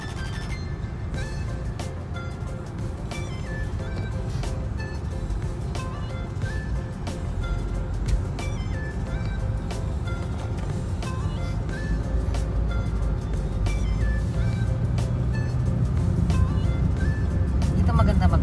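Traffic streams along a busy road in the Philippines, a heavy continuous rumble of passing cars and trucks with repeated horn-like tones, loud and close, while people talk over it.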